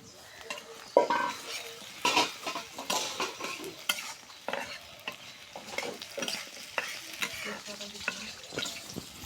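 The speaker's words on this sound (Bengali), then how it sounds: "পেঁয়াজটা সুন্দর করে ভাজা ভাজা করে নিয়েছি।" Onions and whole garlic frying in oil in a karahi, with sizzling and repeated scraping stirs of a spatula against the pan, moderately close and steady throughout without talk.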